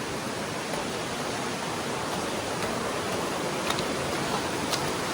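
Steady broadband rushing of a fast-flowing river current on a hike in Quezon, loud and continuous throughout with no talking.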